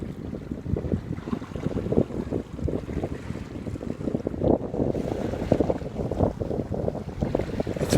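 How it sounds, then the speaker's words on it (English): Strong wind gusts across a rocky Anglesey shoreline, buffeting the microphone with rough, uneven rumbling while faint surf washes underneath, and no one speaks. "It's windy"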